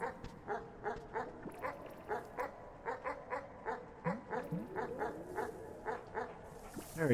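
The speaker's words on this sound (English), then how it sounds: "Oh, I hear dog, but I don't see dog." Rapid, regular dog barks and yips from the video game Animal Well, about two per second in a steady rhythm with a few whimpering tones, moderately loud and alone without talk.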